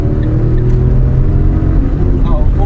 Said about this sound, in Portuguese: O ronquinho é de motor 3 cilindros